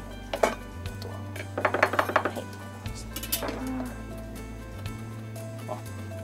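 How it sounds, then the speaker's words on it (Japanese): A knife roughly chopping cilantro on a cutting board, bursts of quick close taps with one dense run of rapid strikes in the middle, over a steady low hum. "最初はザクザクっと切って"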